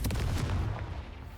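A Confringo fire spell exploding in Hogwarts Legacy, a heavy booming burst with deep low rumble that decays over about a second, with no voices.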